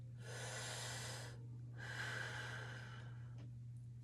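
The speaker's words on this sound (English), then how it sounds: "let's breathe" Deep, slow breaths during a yoga squat stretch with the head turned: two long airy exhalations, close and soft, separated by a brief pause over a low steady background hum.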